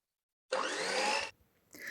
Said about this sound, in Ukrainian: Зараз гарно збиваю яйця.